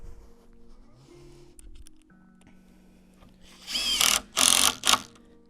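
Cordless drill driving screws into a wooden garden base, a low steady whir underneath, then a couple of louder grinding bursts as screws bite into timber, close by.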